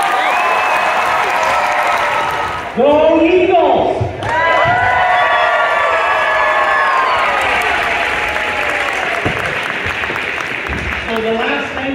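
A school pep rally crowd sends off a boys basketball team with sustained loud applause and cheering in a gym, plus whoops and a shouted rallying cry over the clapping.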